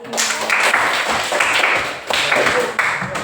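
A school class claps hands for a group of students in a classroom, the broadband patter of many hands running steadily through the clip with slight dips, fairly loud and close.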